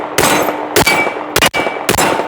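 A shotgun fires four loud, sharp blasts about two-thirds of a second apart, each with a short ringing tail.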